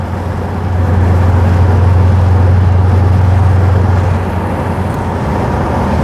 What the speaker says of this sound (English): we can still hear plenty of V8 noise